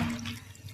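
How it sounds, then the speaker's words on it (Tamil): A little water pours onto cassava (tapioca) in a kitchen, giving a brief splashing trickle that is loudest at the start and fades within a second. "லைட்டா கொஞ்சம் தண்ணி ஊத்திக்கோங்க."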